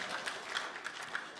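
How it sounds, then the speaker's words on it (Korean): A church congregation applauds together after a special musical performance during a worship service, a steady bed of soft, distant clapping with no voices over it. "우리 다 같이 박수 한번 부탁드릴게요"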